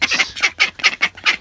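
A flock of farm ducks at morning feeding gives a close, loud run of harsh, squawking quacks, roughly seven calls in an uneven rhythm, heard alone.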